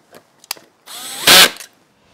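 A power drill bores pilot holes into a wooden support bar for a crosscut sled. There are a few short taps and whirs, then a rising whine that swells loudly for about a second before it trails off, with no talking.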